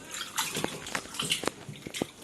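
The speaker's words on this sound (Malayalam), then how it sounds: "2-3 വെള്ളത്തിൽ കഴുകുമ്പോൾ അത് ഫുള്ളായിട്ട്" Stingray fish being washed by hand in water, with quick splashes and sloshing strokes repeating irregularly across the short span, close and moderately loud.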